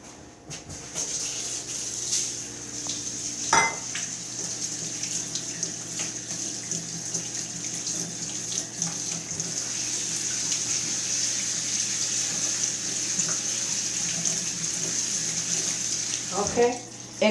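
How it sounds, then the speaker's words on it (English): Red lentils, one cup, rinsed under a running kitchen tap: a steady close rush of water with faint splashing, joined near the end by a brief clatter. "Red lentil. Every store that sell it. I'm going to do 1 cup. You can do more. 1 cup. I like to rinse it up."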